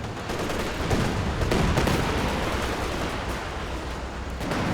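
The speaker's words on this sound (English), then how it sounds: "Here comes another Stuka barrage." Stuka dive-bomber barrage in Company of Heroes 2 pounds continuously, a loud, dense wash of explosions and gunfire with rolling low rumble and scattered sharp cracks, no voices present.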